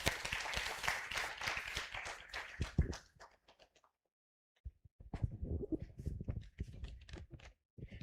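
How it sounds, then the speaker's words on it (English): A symposium audience applauds after a presentation, starting with dense, lively clapping that fades into a brief pause. Scattered claps and knocks follow, with a little background noise from the room. "Another round of applause for him"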